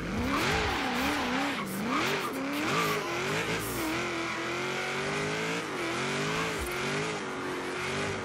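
Supercar in Forza Horizon 3 driving hard, the engine revving up and down in loud sweeping pitches, with tire squeal and skidding through the stretch.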